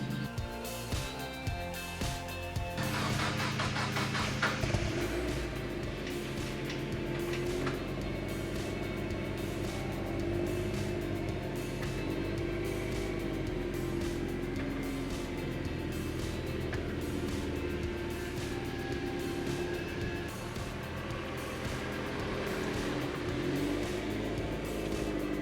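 A turbocharged Mazdaspeed Miata on freshly replaced axles drives along, its engine droning steadily and loudly throughout with shifting revs and no talk.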